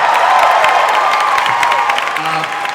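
Convention audience at a New York Comic Con panel cheering and applauding for actor Chet, a loud, dense crowd roar with whoops and clapping sustained throughout, easing slightly toward the end.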